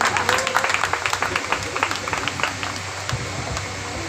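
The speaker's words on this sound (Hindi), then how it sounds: "तालियां बजाते हैं, जोरदार तालियां।" A crowd at an Independence Day program claps together in a brisk, uneven burst of applause that thins out toward the end, with a voice speaking over it.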